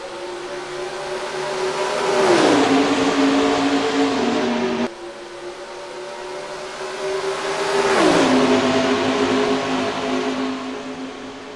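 NASCAR Racing 2003 race cars at the green-flag start of the Southern 500 at Darlington: two loud, sustained engine roars, each building and shifting pitch as the pack passes, with no talking.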